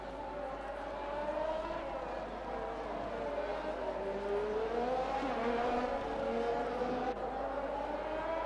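Race cars pulling out of the pits in a racing video game, a steady continuous engine drone with shifting pitch as several cars move off, sustained at moderate level without pause.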